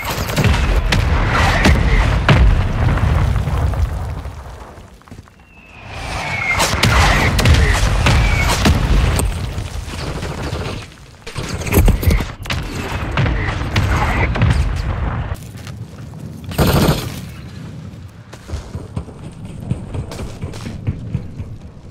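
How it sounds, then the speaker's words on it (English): Mortar strike killstreak explosions in Call of Duty: Modern Warfare 3, a shooter video game, land as a series of heavy booms and crashes, some with descending whistles, spread irregularly over about twenty seconds amid battlefield noise. "Mortar strike on the way."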